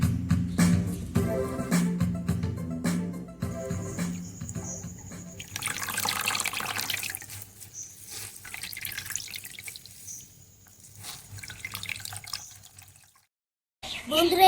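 Water boiled with neem leaves being strained, with close pouring and trickling that splashes at first and then thins into dribbles and drips before it stops and starts again briefly.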